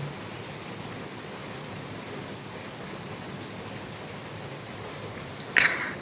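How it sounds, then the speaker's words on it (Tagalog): Rain heard from inside an attic gives a faint, even hiss that stays steady throughout, with a brief louder burst near the end. "Once na bumugso na yung ulan, ang lakas niya. Tapos rinig na rinig namin dito kasi nasa attic kami."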